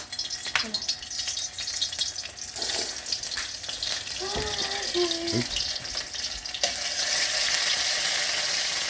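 Aromatics and onion powder frying for a vegetable stir fry, a moderate, continuous sizzle with occasional stirring knocks and a brief burst of voices in the middle.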